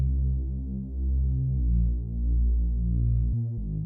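Deep Serum synth bass through an MG Low 18 low-pass filter at low cutoff with high resonance, a dark throbbing hum in a few sustained, pulsing notes with no high end, alone and unaccompanied.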